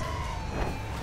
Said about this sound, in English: I hear your sirens.